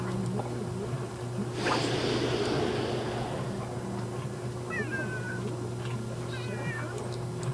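A cat meows in The Sims 3 game, a few short rising calls over steady background game music and ambient hum, with a brief louder noise burst before them.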